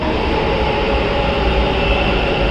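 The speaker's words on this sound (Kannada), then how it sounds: "ಏನೇನು ಟ್ರೈನ್ ಬಂತು ನೋಡಿ" A Namma Metro train arrives at the station with a loud, steady rail rumble that holds evenly throughout, with no voices.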